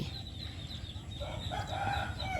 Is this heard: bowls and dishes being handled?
no